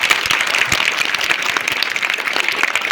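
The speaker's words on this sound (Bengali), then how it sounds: "ওর জন্য একটা জোরে করো হাততালি" Applause for a former student at a school gathering, a dense burst of many hands clapping together, loud and steady for a few seconds.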